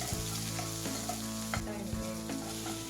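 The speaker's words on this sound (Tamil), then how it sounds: "முதல்ல அடுப்பில் ஒரு பேன் வச்சு சீரகம், சோம்பு, பட்டை, மிளகு தாளிச்சிட்டு வெங்காயம்" Cumin, fennel, cinnamon and black pepper are tempered in hot oil in a pan for a mushroom capsicum gravy, a continuous close sizzle with a few brief crackling pops, set against a steady tonal hum.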